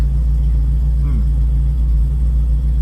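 A Plymouth Barracuda with a Hemi engine idles steadily in a loose cruising tune, a deep, even rumble that stays close and loud throughout, with faint talk in the background.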